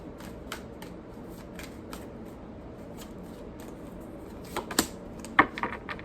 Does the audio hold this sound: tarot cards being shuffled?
yes